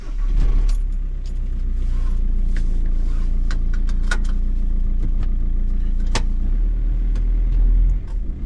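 A VW Transporter T5 1.9 TDI diesel engine cranks and fires into a steady, heavy low rumble that runs loud and close throughout, with a brief metallic jangle of keys near the start and scattered light clicks.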